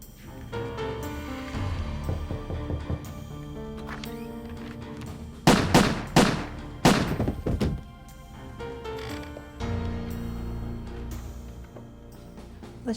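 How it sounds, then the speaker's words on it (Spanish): Several loud, sharp bangs burst out in a quick cluster midway, over a steady background of music, then the music carries on. "Los disparos fueron muy sonoros, eso lo recuerdo."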